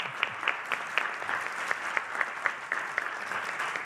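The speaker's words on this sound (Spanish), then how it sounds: "la recibimos con un fuerte aplauso" Steady applause from a crowd, dense clapping with a few sharper claps standing out, continuing evenly throughout.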